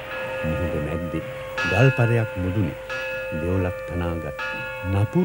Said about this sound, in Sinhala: මේ රන් ඝණ්ඨාරයෙන් නැගුණ හඬ බොහෝ ඈතට ඈතට රැව්පිලි රැව්දුණා